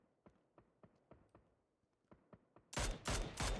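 Video game gunfire during a competitive esports league match: a steady string of sharp single shots at even intervals, then a loud, close burst of rapid fire near the end, with no talk.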